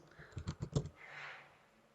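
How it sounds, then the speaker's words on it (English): A short burst of computer keyboard typing, about five quick close keystrokes entering a short command, then a soft trailing rustle; quiet and alone. "we have to type just clean"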